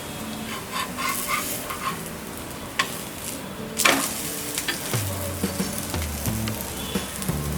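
A ragi finger-millet paratha fries in a little oil on a pan, giving a continuous soft sizzle with occasional scrapes and taps from stirring or turning.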